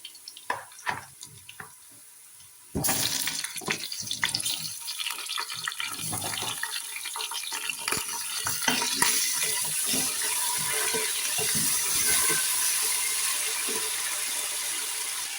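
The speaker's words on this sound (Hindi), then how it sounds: "बस चिकन को फ्राई होने देते हैं, इतना ज़्यादा शोर मचाता है।" Chicken frying in a pan with golden-fried onions for a curry, a loud, steady sizzle and crackle that bursts in after a few quiet clinks and keeps going.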